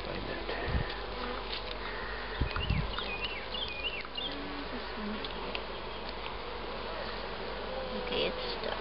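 Honeybees buzz around a hive in a steady, close insect drone with scattered individual bees whirring past and faint thumps, no talking.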